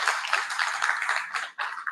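Audience applause at the inaugural session of an international conference on labour migration, a steady dense wash of many hands clapping that dips briefly near the end before surging again, with no talk over it.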